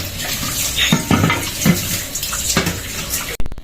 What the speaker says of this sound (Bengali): আর আমার ওয়াইফ বাইলা মাছ ধুচ্ছে